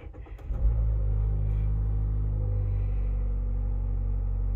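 A car engine catches and settles into a steady low rumble after a brief starting burst, staying loud and close without any talk.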